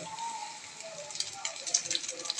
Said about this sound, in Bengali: সুন্দর করে ভেজে নিচ্ছে